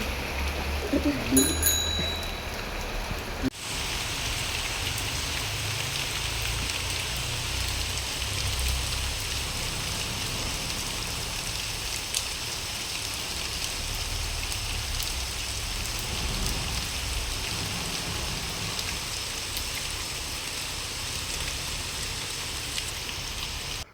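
Steady, dense rain falling on a surface at night, a continuous hiss that holds evenly throughout with no pauses.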